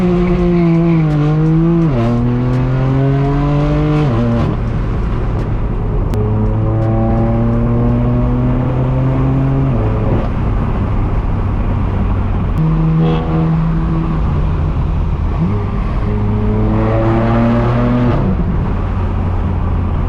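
A loud, raspy straight-piped BMW M4 F82 exhaust roars through repeated gear changes, revs climbing and dropping in steps as the car accelerates close by.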